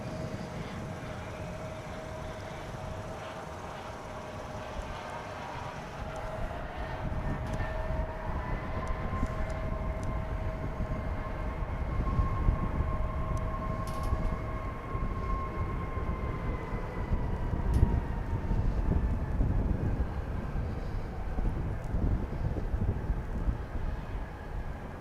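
American Airlines flight 688 takes off at DFW International Airport, a distant, building jet roar with a gliding engine whine that swells over about twenty-five seconds outdoors.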